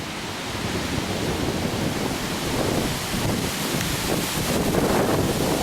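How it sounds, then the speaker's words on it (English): Strong wind blowing through trees at Killiecrankie, Scotland, heard as a loud, continuous roar with heavy buffeting on the microphone, swelling slightly toward the end. "The wind's trying to smack these trees into my jaw."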